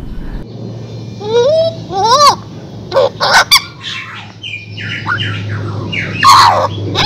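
A tame pet Papuan butcherbird calling up close: rising whistled notes, then harsh squawks and a run of varied warbled phrases, loud and clear over a low steady hum.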